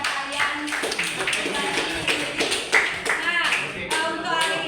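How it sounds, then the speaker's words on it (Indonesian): A class of students claps together in a brisk round of applause, a bright patter of many hands with voices mixed in. "Aplaus dulu buat kalian."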